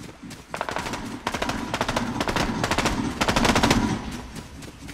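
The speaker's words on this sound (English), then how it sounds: "Sounds like a bunch of shooters." Rapid gunfire in the video game Fortnite, bursts of automatic shots in quick succession that swell louder toward the end, fairly close and sounding alone.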